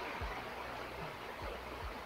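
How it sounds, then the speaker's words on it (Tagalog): Heavy rain falling, a dense, steady wash of noise that fills the whole clip at an even level, with a few low thumps underneath. "lumakas na yung ulan"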